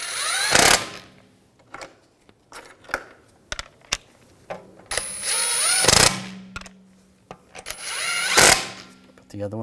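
Ratchet spinning on the wheel lug bolts of a 2007-2013 BMW 328i as the rear wheel is refitted during a brake pad wear sensor job, with loud bursts of clicking between quieter clinks and handling noise.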